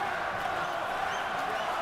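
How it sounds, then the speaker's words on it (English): A boxing arena crowd in the Hopkins vs Pascal fight sends up a steady, unbroken roar to urge Pascal on, a dense wash of voices heard from a distance. "The crowd trying to urge on Pascal"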